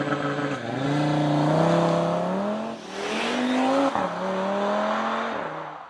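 Audi RSQ3 compact performance SUV launching hard in RS mode, its engine revving up through several gear changes with rising, dropping pitch, loud and close over road noise.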